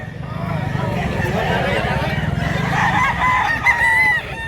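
A rooster offered for sale at a market in Mantalungon, Cebu crows loudly over a crowd, with steady low chatter and talk from people nearby throughout.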